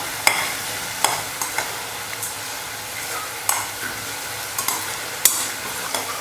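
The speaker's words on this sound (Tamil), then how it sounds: "இன்னும் 1 நிமிஷம் நல்லா வதக்கிக்கலாம்" Onion and tomato with coriander sautéing for egg curry, a constant sizzle broken by repeated sharp spatula taps and scrapes against the pan at an irregular pace.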